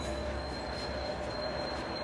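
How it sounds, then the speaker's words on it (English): A Sheffield Supertram passes nearby with a sustained high-pitched wheel squeal ringing over a steady rolling rumble, moderately loud throughout. "let's look at the tram. Called Super Tram."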